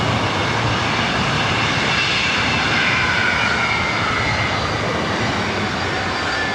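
A Delta jet airliner powers up on the runway at LAX, a loud, sustained roar of jet engines with broadband rushing noise that holds steady from start to finish.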